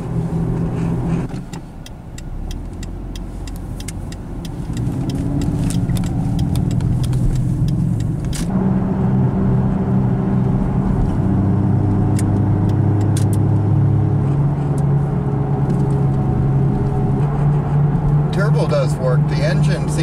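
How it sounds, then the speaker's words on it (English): A turbocharged PT Cruiser convertible drives with a bad front wheel bearing, a steady droning hum and whir rising with speed under road and engine noise, close inside the cabin. "Definitely sounds like a bad wheel bearing."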